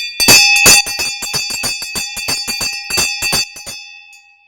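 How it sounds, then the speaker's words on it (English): A stock market opening bell rung at a June 2020 opening ceremony, a loud rapid metallic ringing of fast repeated strikes lasting several seconds before stopping and fading out, with no voices over it. "I'll go ahead and ring the bell to open the market now."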